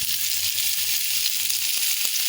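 Sliced ivy gourd sizzling in hot oil in a pan, a steady, bright hiss of frying that holds evenly from start to finish, close up, with no talking.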